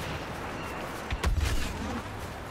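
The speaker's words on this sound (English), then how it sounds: "Whoa, what exploded over there?" Explosions ring out across a Star Wars Battlefront multiplayer battle: a sharp blast near the middle with low rumbling booms that roll off over a steady din of combat.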